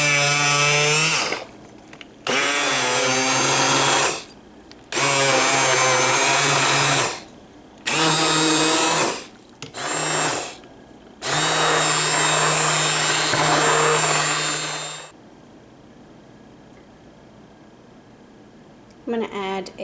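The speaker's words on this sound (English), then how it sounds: "What I actually like to use is I have an immersion blender." An immersion blender pureeing tomatoes in a stock pot runs in several loud bursts of whirring motor noise separated by short pauses, then stops, with talking between and over the bursts.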